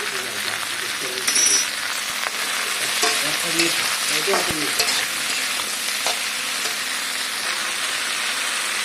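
Okra frying in a pan with cooked ginger, garlic and salt, a steady bright sizzle with scraping stirs and spoon knocks, close and loud, no talking.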